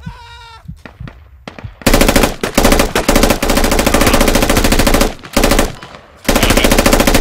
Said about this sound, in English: Everyone else just keep shooting.